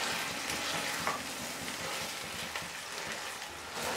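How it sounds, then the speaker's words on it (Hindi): Marinated chicken fries in oil in a pan over a medium flame, giving a steady close sizzle and crackle that runs unbroken with no talk. "इसको 3-4 मिनट भूनेंगे अच्छी तरह"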